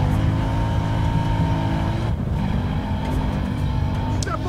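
Car engine in the video game Battlefield Hardline, a steady droning motor hum with a shifting whine, continuous and fairly loud, with a brief dip midway and a faint voice underneath.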